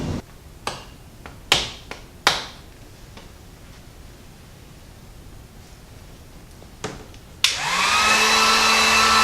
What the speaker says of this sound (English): take the heat gun and kind of help give it a little bit of heat